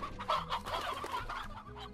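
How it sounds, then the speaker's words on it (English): Chickens in a video game cluck steadily in a busy, fairly loud farmyard chorus of overlapping clucks throughout, close, with no talking. "Oh no, it's gonna eat the chickens, it's gonna eat the chickens,"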